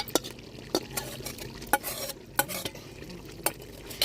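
Stirring gongura leaves into a village-style Andhra chicken curry, with repeated scraping spoon strokes against the pot over a soft sizzle, close and fairly loud, no talk.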